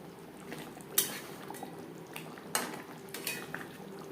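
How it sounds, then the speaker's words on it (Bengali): A spoon stirs garam masala and chopped coriander into a simmering fish curry gravy, giving several distinct clinks and scrapes against the pot over a soft bubbling background, with no talking. "গরম মশলা ও ধনেপাতা কুচি গ্রেভির সাথে বেশ ভালো করে মিক্সড করে দেবো"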